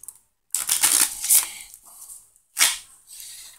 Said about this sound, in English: And shuffle once more.